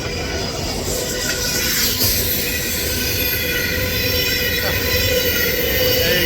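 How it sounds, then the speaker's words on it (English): A train rumbling past close by near Cobbler Pool on the Avon River in Western Australia, loud and continuous, with wheel squeal and rattling wagons sustained throughout. "A lot of trains here at Cobbler's Pool. Going past about every 30 minutes."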